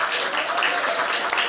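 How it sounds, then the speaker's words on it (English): Brief wash of audience applause at a celebration for a curvy girls' group, steady and moderately loud, with a voice faintly audible beneath the clapping. "Let's give them another round of applause."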